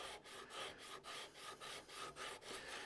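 Sandpaper rubbed by hand along the wooden neck of a Telecaster-style guitar build, a steady back-and-forth rasping with about ten even strokes, close and moderately loud with no talking.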